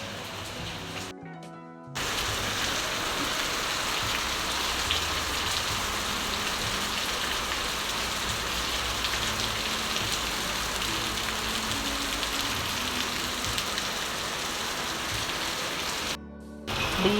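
Steady rain falling on surfaces, a dense continuous hiss and patter close by, cut off briefly near the start and end.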